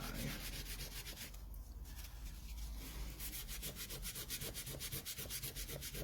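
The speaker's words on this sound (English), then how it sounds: "give it a nice rub in, then on the borders, like I say, you're blending into each other, so you almost smudge up and down" Tissue paper rubbed back and forth over oil pastel on paper to blend and smudge the colours, giving a steady, close, soft scratchy rasp with rhythmic strokes and no talking.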